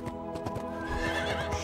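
In the Lego Lord of the Rings video game, a horse gives a loud whinny over a run of clopping hooves, fairly close and clear, with no talking.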